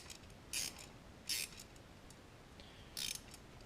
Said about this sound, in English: But you just keep tightening it down